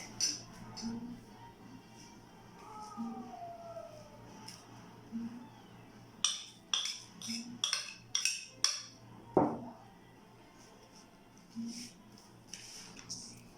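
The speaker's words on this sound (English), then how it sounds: "black peppers, salt, and oil. We will mix it." Potatoes are tossed with black pepper, salt and oil for French fries, giving quiet, scattered clinks and scrapes of utensils against a bowl, with gaps between bursts.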